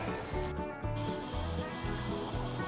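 A dual-burner Blackstone combo griddle is being lit, with a steady, repeating mechanical clicking from the igniter and a faint rushing hum under it.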